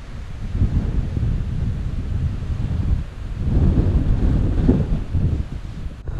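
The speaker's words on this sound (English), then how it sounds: "it's getting a bit windy now." Strong wind buffets a hiking trail, rumbling loudly and continuously into the microphone with a gust swelling midway, and no voices are heard.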